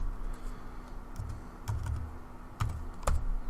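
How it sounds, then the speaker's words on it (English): Typing on a computer keyboard while entering a made-up password, a steady run of light key clicks with a few louder strokes over a low hum; no speech. "I'll just type in a bunch of stuff"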